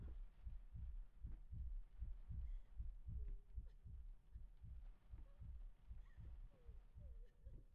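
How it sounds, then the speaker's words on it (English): A heart beating on a wall in the horror video game Layers of Fear, a steady, deep, throbbing double pulse repeating evenly throughout over a low ambient hum, with no talk. "There's a heart beating on the wall."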